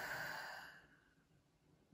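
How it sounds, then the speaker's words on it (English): A single deep breath, with shoulders raised, during a beginner half-pipe skateboarding lesson: a soft, close exhale like a sigh that fades out within a second, alone and quiet. "that was a bad example of a deep breath because I put my shoulders up"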